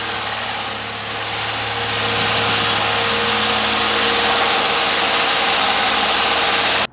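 A Holden ute's V6 engine idles fast and close by with a steady high-pitched mechanical drone and whine. It rises slightly after the first couple of seconds, holds loud and even, then cuts off abruptly.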